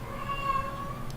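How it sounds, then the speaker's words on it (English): A cat meows steadily in the background of an indoor room, a sustained tonal cry running unbroken through the short stretch at moderate loudness. "Excuse the cat meowing in the background."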